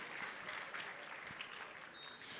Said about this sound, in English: I think they deserve a good round of applause from everybody.